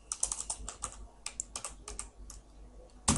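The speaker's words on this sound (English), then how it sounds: "So let's type dog1" Quick, irregular typing on a computer keyboard, a run of close, crisp key clicks with a louder clack near the end, no voices.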